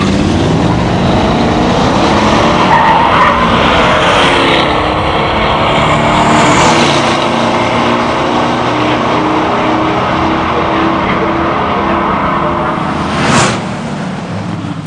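A 1970 Buick GSX and a 1968 GTO big-block muscle car drag racing down a strip, a loud sustained engine roar that holds steady for the whole run and fades slightly, with a brief sharp burst near the end.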